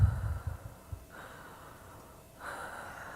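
Slow, deliberate breaths in conscious connected breathwork: a few rough, close exhales at the start, then two long, airy inhale-exhale cycles, quiet and steady with no talking.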